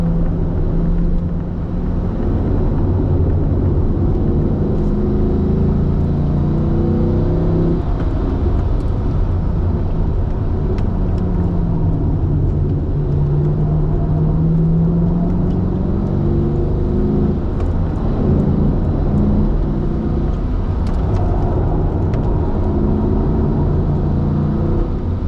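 Corvette driving on a race track at a driving school, engine droning from inside the car as a steady, loud rumble with slow pitch swells as it speeds up and eases off, continuous for about twenty-five seconds without speech.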